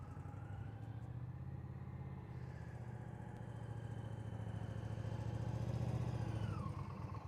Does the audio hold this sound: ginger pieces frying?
no